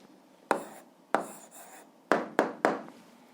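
A pen writing an answer on paper, heard as five short, close scratching strokes separated by brief pauses in an otherwise quiet room.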